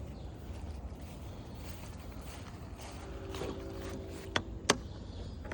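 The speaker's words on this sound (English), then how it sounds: "Push it down with your arm, clamp it in place." Leg clamps on a Coleman Santa Fe canopy being locked in place outdoors: faint creaking and rustling, then two sharp clicks near the end.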